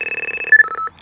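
A Fox RX+ carp fishing bite alarm sounds a fast, steady run of loud electronic beeps close up, the pitch stepping to a different tone partway through as the tone setting changes, with no voices present.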